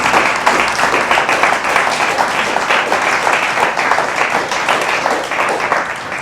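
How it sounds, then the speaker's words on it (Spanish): A church congregation claps loudly and continuously for several seconds, a dense, even wash of many hands close and full. "Fuerte el aplauso al Señor."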